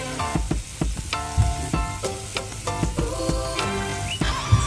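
Chicken pieces fry in a pan with a continuous crackling sizzle, punctuated by sharp clinks and scrapes of utensils against the pan as the pieces are moved about.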